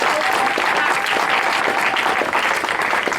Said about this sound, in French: Tu peux acclamer très bien pour la gloire de Dieu.